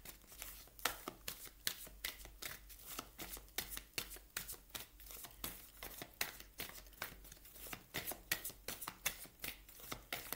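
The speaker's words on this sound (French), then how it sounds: "On va prendre une carte du tarot psychique ici." Tarot cards shuffled steadily by hand, a continuous run of crisp, close riffling snaps and slides in a quick rhythm, with no talking.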